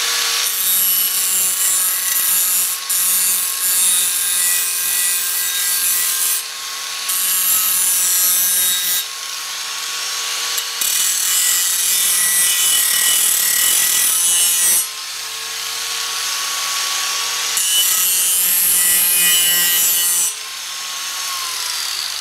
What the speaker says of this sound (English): I gotta use the angle grinder to cut the paint